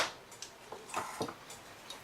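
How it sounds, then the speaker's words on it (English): An E. N. Welch parlor clock ticks quietly and irregularly, a handful of faint, sharp clicks spaced across a near-silent background, close by. "This says it's a Welch clock."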